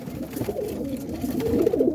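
Boston whipping roller pigeons coo close by in a loft, a low, soft, throaty warble that rises into a few rounder, clearer notes near the end.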